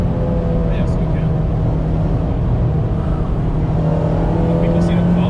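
Supercharged 350 hp Honda Civic engine droning loud and steady from inside the cabin, with faint whine and brief rev shifts as it works through downshifts; voices talk over it.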